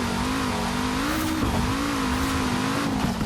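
A 1973 BMW 2002 Turbo in Forza Horizon 4 drones along at steady high revs, its engine note wavering slightly as it shifts, loud and close with faint tire noise beneath.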